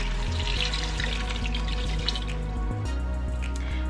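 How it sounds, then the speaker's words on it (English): Water pours steadily into an Instant Pot over beef for shredded tacos, a continuous close splashing and gurgling stream with a few drips. "And now we're going to add water to cover,"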